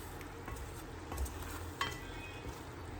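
A spoon stirs mushroom cream sauce in a pan, with soft scraping and a few light clicks over a low, gentle sizzle.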